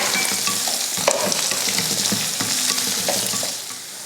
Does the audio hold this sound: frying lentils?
yes